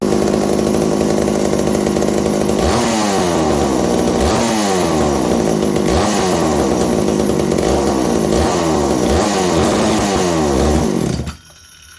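A McCulloch 790 chainsaw engine, running too rich at the top end, roars loud and close, revving up and down again and again in rising bursts before cutting off abruptly near the end.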